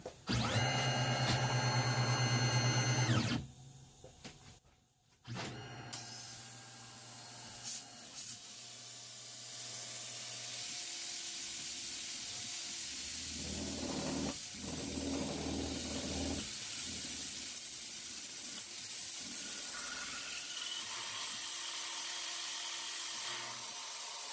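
A CNC mill hums and whines with a steady tonal drone while running a drilling program, then shifts into a long hissing spray of coolant and cutting noise, continuous and fairly close.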